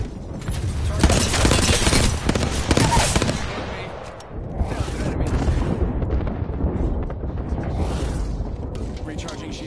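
A frag grenade explodes amid heavy gunfire in a shooter video game, dense bursts of shots and blasts that rumble on continuously, with a voice talking over the combat.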